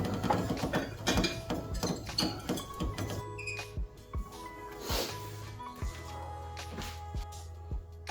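Close, loud ratcheting of a hand tool threading an NGK spark plug into an engine during maintenance, with repeated short clicking bursts and brief pauses in between.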